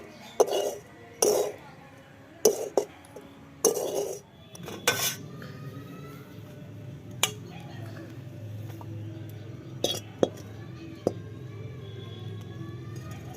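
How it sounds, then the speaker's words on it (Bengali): A metal spoon scrapes and clanks against a pot while thick boiled rice-flour dough is stirred, with several sharp knocks early on and then quieter, scattered taps over a low steady background. "ঢাকনাটা খুলে নিলাম এবার একটু নাড়াচাড়া করে নামিয়ে নেবো"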